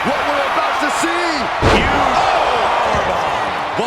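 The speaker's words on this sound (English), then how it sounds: "Diving shoulder tackle." A heavy body slam from a diving shoulder tackle in the wrestling video game WWE 2K25, one loud thud under a noisy arena crowd while a commentator talks.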